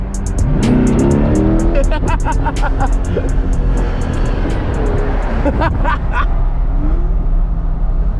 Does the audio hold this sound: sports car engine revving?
yes